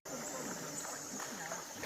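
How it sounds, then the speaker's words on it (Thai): Water flowing at a cave campsite, a continuous rushing, splashing stream filling the clip at steady loudness, close by and without talk. "มีน้ำไหล"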